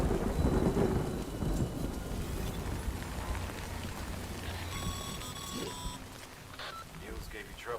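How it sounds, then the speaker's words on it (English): Steady rain and low rumbling thunder fill a stormy scene in the video game Death Stranding, with a continuous wash of rainfall and a few faint electronic beeps partway through. "Good thing it was raining."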